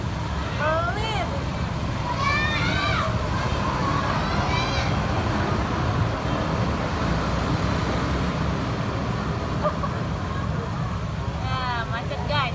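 Road traffic in a jam in Indonesia, a constant close rumble of engines and idling vehicles, with occasional rising horn or whistle-like tones and faint voices underneath.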